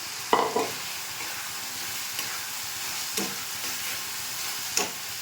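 Maida dough balls stirred into sizzling spiced masala in a pan, with a steady low frying hiss and a few sharp scraping strokes of the spoon, no voices.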